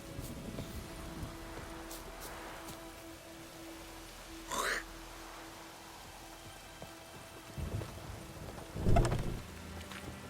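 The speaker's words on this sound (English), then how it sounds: "The storm, damn it." Stormy weather in the video game Witcher 3, with steady rain hiss and a couple of brief rumbling thunder bursts rising out of the background, fairly quiet overall with no talking.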